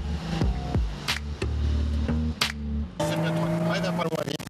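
Car engine accelerating on a track from inside the cabin, a steady droning tone broken by sharp clicks and shifts, with someone talking over it throughout.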